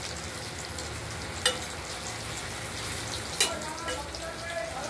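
Paneer pieces fry in oil for a vegetarian paneer curry with potato and tomato, producing a continuous close crackling sizzle with two brief sharper spatters.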